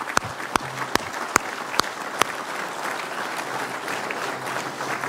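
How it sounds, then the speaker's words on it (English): An audience at a Veterans' Affairs Committee hearing applauds family members of veterans, a few sharp claps first and then steady, dense clapping from a room full of people. "how about we do a round of applause for our family members"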